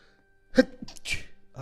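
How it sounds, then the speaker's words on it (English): One sharp, close sneeze with a quick intake before it and a short breathy exhale after, in a quiet room. "Sorry, I'm sneezing this morning."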